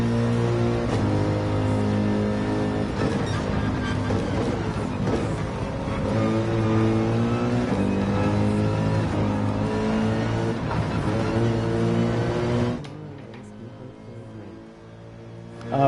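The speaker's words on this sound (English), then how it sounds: "I should be short shifting this AMG." A Mercedes-AMG race car's engine revs hard in Gran Turismo 7, climbing and dropping through quick, early upshifts with a steady loud drone, then easing off and fading near the end.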